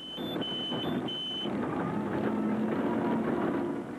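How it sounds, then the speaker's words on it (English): Horn on a Nissan Hardbody rally truck in the Lesotho Sun 400, sounded to signal an overtake: short high-pitched blasts over a steady engine drone, then the engine roar alone. "Du Plessis sounds his screamer to signal he wants to overtake."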